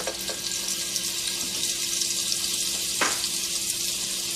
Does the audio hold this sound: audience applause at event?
no